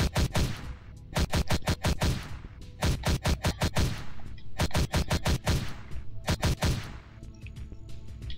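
Rapid bursts of gunfire from a zombie dungeon crawler indie video game, fired in repeated volleys of sharp, evenly spaced shots with brief pauses between groups, loud and continuous with no talk over it.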